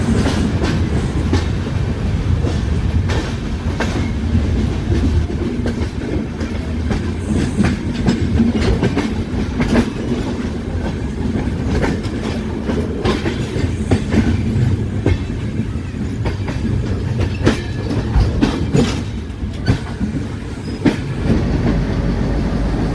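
A Jhelum Express train, number 11078, running between Jammu and Pune, rolls along steadily with a continuous low rumble and rhythmic clickety-clack of wheels over rail joints, loud and close throughout with no talk.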